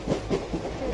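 Passenger train rolling along the rails, a low rumbling with rhythmic clacks heard from inside a carriage, close and steady, no voices.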